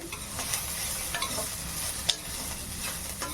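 Onions fry in a pan, with a soft steady sizzle broken by several sharp scraping stir strokes, heard up close and with no voices.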